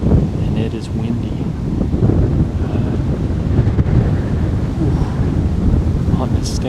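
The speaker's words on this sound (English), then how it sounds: "I knew it was going to be gusty" Gusty wind buffeting the microphone on a hunting stand during a bowhunt, a steady low rumbling roar that swells and dips, loud and close throughout.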